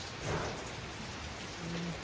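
Steady, heavy December rain pouring down continuously, a dense hiss with no pauses and no voices.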